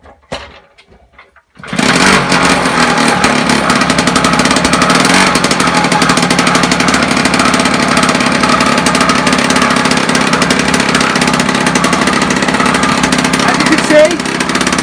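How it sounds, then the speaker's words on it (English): A 1976 Puch Maxi moped's small engine starts after a few faint pulls, then runs loud and steady with a fast, buzzing putter that continues evenly to the end. "I'll start it up for a few seconds so you can hear it run"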